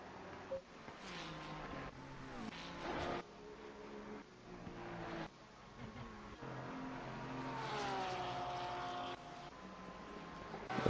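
A Porsche GT3 race car in Assetto Corsa Competizione at Spa-Francorchamps screams through the gears, its engine note rising and dropping with shifts, loud and sustained with a long climbing whine near the end.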